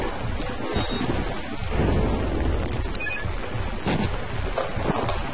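Rain pours steadily in the horror game Outlast, with deep rolling thunder rumbling through it and swelling in the middle.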